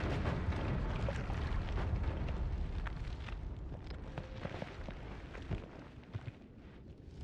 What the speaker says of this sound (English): Those are some interesting explosion particles.